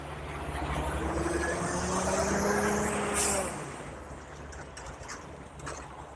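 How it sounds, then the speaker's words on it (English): A truck passes near a football practice field, rumbling up to a broad swell of engine and tire noise that peaks after about three seconds, then fades into quieter outdoor background. "Let me let this truck pass, y'all."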